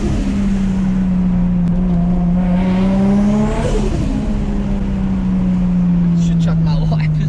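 A modified 550 hp Nissan R33 with an RB25DET turbo engine pulls hard under boost from inside the car, its tone rising and then dropping as turbo flutter chatters on the lift-off, over a steady road drone.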